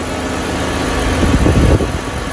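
A 2011 BMW 328i engine idles steadily up close, a low continuous rumble with a slight surge in the middle.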